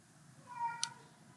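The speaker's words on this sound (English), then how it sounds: "when he's not in the same room as us, he panics and he starts meowing" A pet cat named Teddy gives one drawn-out meow from another room, heard faint and alone in a quiet house with a soft click near the end.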